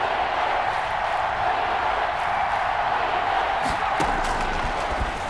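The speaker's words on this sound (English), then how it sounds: "The crowd getting into it as we come up on a big 3rd down." Stadium crowd noise in the Madden NFL 21 football video game, a steady loud roar building ahead of a big third down, with a few brief sharp accents near the end.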